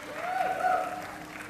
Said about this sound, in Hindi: तालियां बजती रहनी चाहिए गाइस।